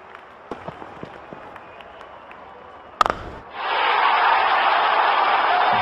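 A cricket stadium crowd at an IPL T20 match erupts into a loud, sustained roar of cheering after a few scattered claps and a sharp hit. The crowd noise stays broad and steady, heard from a distance.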